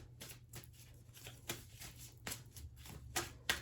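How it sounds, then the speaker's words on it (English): Oracle cards are given a quick shuffle, a series of soft, close papery riffles and flicks in irregular bursts over a quiet background. "So I just want to give them a quick shuffle"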